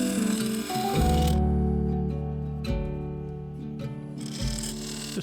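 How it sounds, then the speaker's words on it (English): A gouge and skew chisel cut a wooden egg spinning on a lathe, giving a steady humming drone with bright scraping bursts that stop and restart as the tool is lifted away and pressed back in. "Using the gouge in the skew, I began shaping the upper profile"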